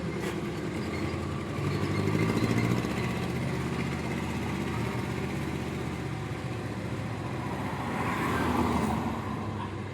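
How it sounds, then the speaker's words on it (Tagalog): A multi-cab vehicle passes on a road, a steady engine and tire rumble from moderately near that swells and fades slightly, with no one talking. "So may multi-cab na dumaan siguro."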